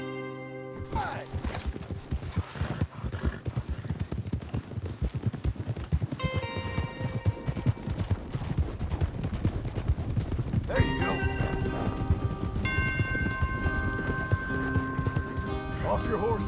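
Horse hooves clip-clop steadily at close range in the video game Red Dead Redemption II, a continuous rhythmic patter beneath bursts of music, with someone speaking briefly.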